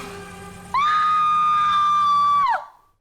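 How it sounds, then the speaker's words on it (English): A woman in a movie lets out a long, piercing scream that starts suddenly, holds steady at full loudness for nearly two seconds, then cuts off, following a quieter stretch of background sound. "She looked at us and screamed."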